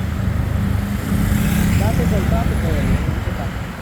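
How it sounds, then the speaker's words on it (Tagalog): Steady road traffic rumble from cars and motorcycles in morning congestion near a school, with engine drone throughout and people talking over it. "Ay, nako, traffic na naman kami."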